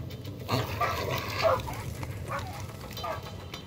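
A dog barks a few times in Far Cry 6, its short yelps mid-range in loudness over a noisy game backdrop.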